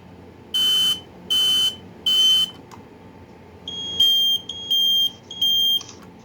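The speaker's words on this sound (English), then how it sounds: "we have a pair of Kidde I9040 smoke alarms. These are ionization." A pair of Kidde I9040 ionization smoke alarms sounds during testing. One gives three loud piercing beeps, then after a pause the other gives three more with a slightly different pitch, both close and shrill.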